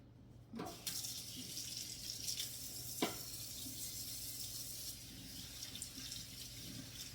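Brine poured into a jar of pickles during home canning, a steady tap-like stream of liquid running for several seconds with a brief clink near the start, close and moderately loud.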